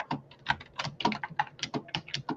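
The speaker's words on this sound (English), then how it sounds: "That's J Mac typing." Rapid typing on a computer keyboard, a close, uneven patter of distinct key clicks with brief gaps, no voices over it.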